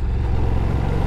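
A Ducati Diavel V4 motorcycle engine runs below 3,000 rpm in third gear, giving a steady, slightly lumpy low rumble that stays loud and close throughout the short stretch, with no voices over it.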